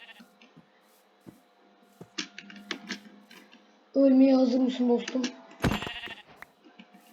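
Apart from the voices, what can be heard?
sheep bleating in the video game Minecraft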